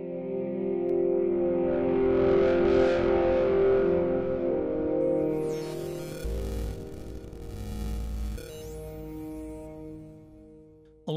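A sustained synthesizer tone with gritty Heaviosity signature distortion, swelling and shifting, with a noisy burst in the middle before fading.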